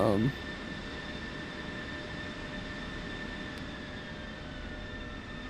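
Fixed-wing aircraft engine in a video game squad event drones steadily and fairly loud after a brief stronger burst at the start, with no voices over it.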